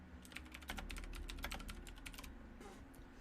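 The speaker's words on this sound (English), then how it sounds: "Typing behind the desk here." Rapid, busy keystrokes clatter on a computer keyboard behind a desk on a streaming set, close and continuous with quick bursts of clicks.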